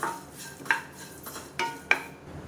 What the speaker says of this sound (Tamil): இதையும் சேர்த்து நல்லா அந்த சூட்டிலே பரட்டிட்டுருக்கேன்